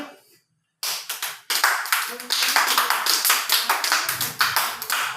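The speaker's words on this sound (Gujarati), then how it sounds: "ઉપર તાળી" A group of young children claps hands overhead in a quick, steady rhythm, many claps overlapping, with voices faintly mixed in, during a light exercise session at a preschool.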